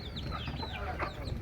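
Native country chickens pecking at feed in a mixed backyard flock, with soft overlapping clucks and chirps continuing at a moderate, steady level.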